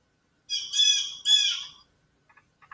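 Two shrill, squawking blasts from a bird call whistle sound like a bird, followed by a few faint short chirps.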